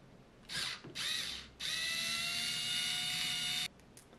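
An electric screwdriver whirs in two short bursts and then one long, steady high-pitched run, taking out the corner screws of a Sartorius analytic balance under repair.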